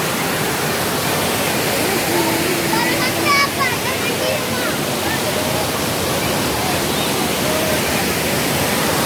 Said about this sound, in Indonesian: Guys, kita sudah sampai di sungai.